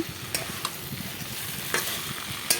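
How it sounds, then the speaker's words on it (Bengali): Potato and ridge gourd fry with spices in a steady, even sizzle, with occasional soft stirring scrapes and clicks rising over the continuous hiss. "মশলাগুলো কষিয়ে তারপর আমি আলু আর ঝিঙ্গার সাথে তুলে নিলাম"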